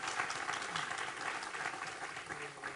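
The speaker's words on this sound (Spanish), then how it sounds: "Un aplauso para Camila." A forum audience gives a dense, steady round of applause for a speaker. The clapping is distant and unbroken throughout.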